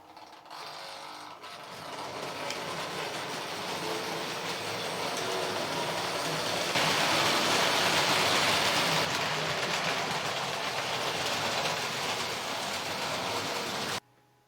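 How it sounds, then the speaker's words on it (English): A Hornby Dublo Castle class model locomotive runs steadily on its track, a close, continuous whirring rattle that grows a little louder partway through, then cuts off abruptly at the end. "Now here we have a castle class locomotive. It's a Hornby Dublo model"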